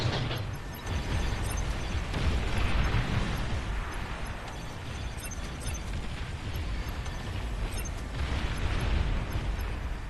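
Rumbling explosions and booms from battleships being shot and destroyed in the real-time strategy game Beyond All Reason, a dense, continuous roar of blasts with overlapping bursts throughout.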